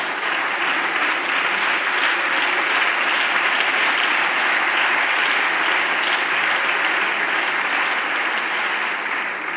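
Sustained applause in a parliamentary chamber, a dense, even wash of clapping from a large crowd that carries on without pause and without talk.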